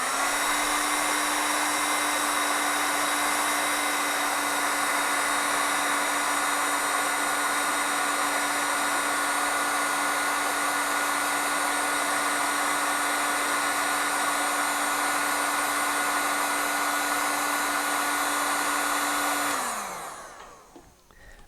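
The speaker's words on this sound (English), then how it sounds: "I'm just going to take another piece and heat shrink right over top of that" Heat gun blowing steadily on heat shrink tubing during a vehicle wiring harness rebuild, a loud continuous hot-air whir with a motor hum that runs evenly for about twenty seconds, then winds down and cuts off near the end.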